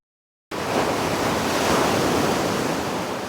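Big ocean waves at a beach in Dipaculao, Aurora, roaring in as a loud, continuous wash of surf with wind buffeting the microphone, starting abruptly after a short silence.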